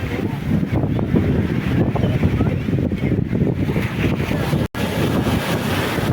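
Sea waves wash steadily onto the Kanyakumari shore, a loud continuous broadband rush mixed with wind buffeting the microphone, with a brief dropout near the end.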